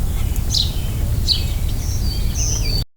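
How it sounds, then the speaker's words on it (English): Black-throated green warbler song: faint, high buzzy phrases repeated a few times at a distance, over a steady low rumble of background noise. "The black-throated green warbler is a striking warbler."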